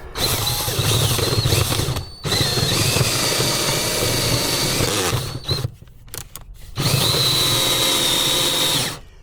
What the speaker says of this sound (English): I've got to re-drill and make the hole bigger